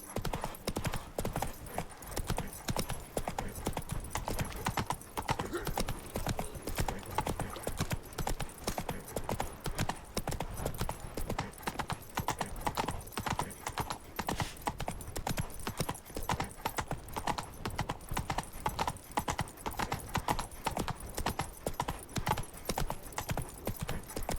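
Steady, continuous clip-clop of a galloping horse in The Witcher 3: Blood and Wine, hoofbeats drumming evenly throughout over a constant bed of game ambience.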